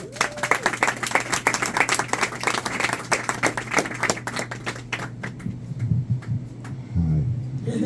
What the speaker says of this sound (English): give me a big round of applause for John Minus